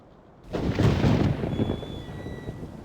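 Loud thunder rumbles in the video game Harvester, a broad crash that swells about half a second in and rolls on for over two seconds, with faint tonal whines trailing above it.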